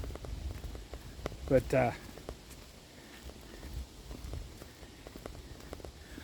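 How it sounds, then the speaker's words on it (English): Footsteps on a wet street in the rain, with soft repeated splashing steps at an easy walking rhythm and a brief louder scuffle early on, over light rain patter; a single spoken word is heard. "I'm not super enjoying this walking in the rain thing."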